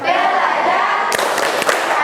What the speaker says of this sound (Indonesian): Tepuk tangan P5.